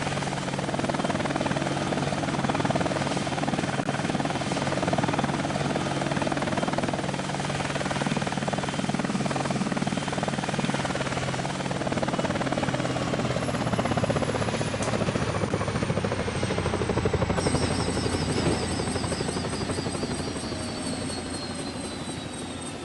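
Mi-24 Hind helicopter engines from the game Air Missions: Hind, a loud steady turbine roar with rotor throb that continues alone, then starts to wind down near the end as a rising whine fades.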